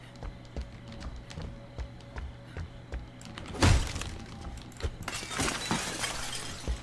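Glass window shattering in the Friday the 13th video game, a loud sharp crash mid-clip followed by a scattered tail of debris over a steady low game ambience.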